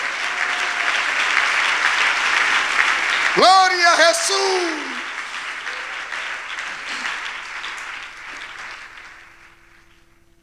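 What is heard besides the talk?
congregation applause to the Lord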